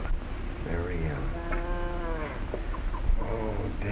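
Cattle on a farm moo in long, drawn-out, wavering calls, several overlapping lows rising and falling close by over a noisy background.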